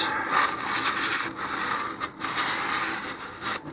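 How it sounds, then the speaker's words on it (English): Dust is wiped off a Madcow Sport-X high-power model rocket. Close, brisk rubbing strokes repeat in an uneven rhythm with a few brief pauses between passes. "we'll just remove some dust from that."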